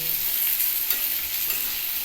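Sesame fritters fry in hot oil in a wok, giving a steady close sizzle with faint stirring and clinking from a utensil. No voices are heard.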